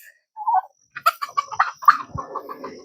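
Farm poultry call from behind a coop in summer, a short burst of clucking and gobbling notes, close and clear with no talk over it.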